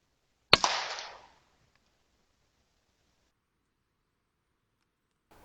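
A single sharp crack from a CZ457 .22LR rifle firing hollow point ammunition at a squirrel during a hunt from a hide, short and close, followed by a brief decaying echo and then near silence.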